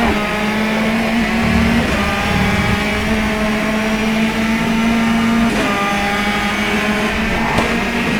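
A race car engine in the rFactor 2 racing game drones loud and steady at high revs, its pitch stepping down briefly as the gear drops, then holding on again throughout.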